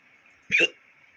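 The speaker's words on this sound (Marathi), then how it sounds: "उचकी लागली आठवण काढते कोण काय माहित" A single sharp hiccup, brief and close, standing out against a quiet room with a faint steady hum.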